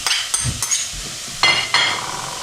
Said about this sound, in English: Stir that in until the onion's all brown